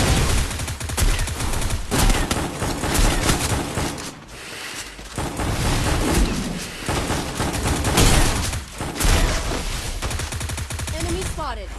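Sniper and other gunfire crackle in an online shooter game, dense and loud bursts of shots and impacts piling up almost continuously, with a voice heard amid the noise.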